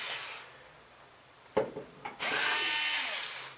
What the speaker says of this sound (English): a Phillips screwdriver, which I'm going to use instead a drill with it set to the lowest torque setting